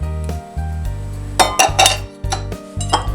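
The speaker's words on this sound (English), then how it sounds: "I'm just going to fold these in, stir them in" Walnuts being stirred into an egg yolk mixture in a bowl, with a utensil clinking and scraping against the bowl in several sharp taps over a steady low hum.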